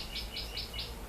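Birds chirping in a home garden in the early morning, four quick, evenly spaced high tweets in a row, faint and somewhat distant over a steady background hiss.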